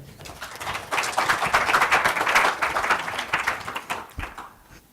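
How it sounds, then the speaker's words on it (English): A lecture audience applauds warmly to welcome chemist Professor Lehn, clapping that swells in after a quiet start, holds dense and strong, then thins and fades out near the close. "let's give a warm applause to Professor Lehn"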